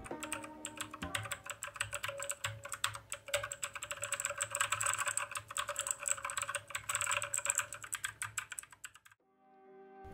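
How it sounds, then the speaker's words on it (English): Keys of a Zebronics gaming mechanical keyboard clack in a quick, steady typing rhythm, close up and fairly soft, with no voices. "the sound we get by pressing the keys on mechanical keyboard is definitely soothing"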